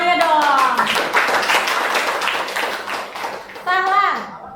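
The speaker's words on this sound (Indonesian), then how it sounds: "beri tepuk tangannya dong" Children in a classroom clap their hands together during a science lesson on energy, a dense burst of claps lasting a few seconds, framed by a voice before and a voice speaking again at the end.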